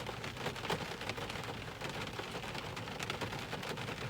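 Steady rain falls in a dense, even hiss with scattered louder drops spattering nearby, continuous throughout with no voices.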